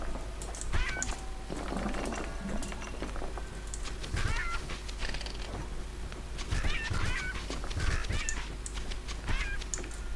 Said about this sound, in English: Those birds are kinda annoying.